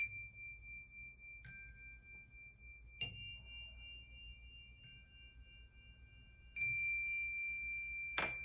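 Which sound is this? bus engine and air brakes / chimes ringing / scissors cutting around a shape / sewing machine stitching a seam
chimes ringing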